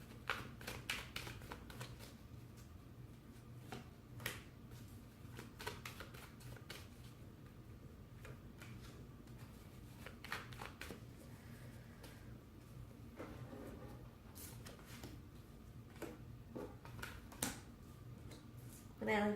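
Quiet, close tarot card shuffling: repeated soft riffles and taps in irregular bursts over a faint background hum.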